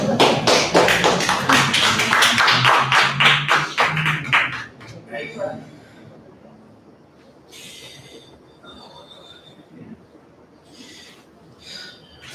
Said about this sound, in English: give her a hand, round of applause